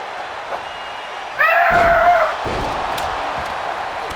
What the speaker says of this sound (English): A kendo stick involved in this match.